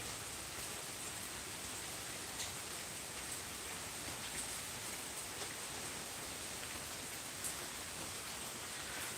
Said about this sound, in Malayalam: അല്ല ഈ വേനലിൽ ഇങ്ങനെ മഴ കിട്ടണമെങ്കിൽ കണ്ടില്ലേ